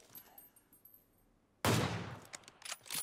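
Gunfire from bot players in the mobile game PUBG Mobile: after a quiet stretch, a sudden loud, sustained burst of shots erupts, with scattered sharp cracks trailing off near the end.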